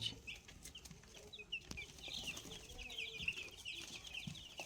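Young Sonali and Koyla chickens in a small flock keep up faint, scattered peeping and soft clucking, heard quietly and at some distance with light rustling underneath.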